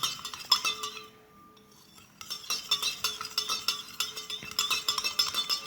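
A chemistry solution is stirred in glassware for mixing, with repeated clinks and scrapes in an uneven rhythm, close and moderately loud, pausing briefly before resuming.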